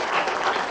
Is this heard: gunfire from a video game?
no